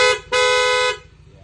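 A PIA auto-style horn fitted to a Yamaha Aerox V3 scooter gives a short toot, then a longer, steady, loud blast of about half a second, bright and harmonic, close to the listener.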